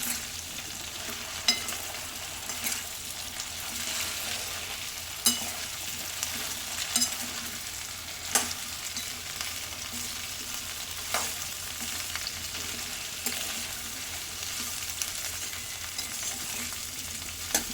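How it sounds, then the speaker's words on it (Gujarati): Okra frying in an open pan over medium heat, giving a steady crackling sizzle with occasional sharp clicks and scrapes as it is stirred, close and continuous, with no talking. "હવે ભીંડા ઉમેરી લઈશું। બરાબર મિક્સ કરી લેવાનું।"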